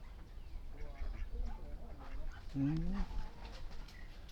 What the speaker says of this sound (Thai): พ่อเราเลี้ยงเป็ดหลาย